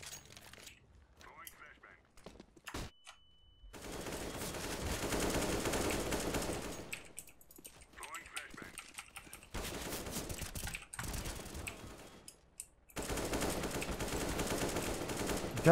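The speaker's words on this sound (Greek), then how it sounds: "Έχουν αλλάξει πάρα πολύ τους ήχους από τα όπλα." Gunfire from the CS:GO video game, with bursts of rapid shots and fusillades coming in loud dense stretches separated by quieter gaps, over faint clicks and background game noise.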